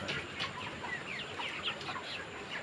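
Chickens being weighed for sale give continuous close clucks and squawks in quick irregular bursts.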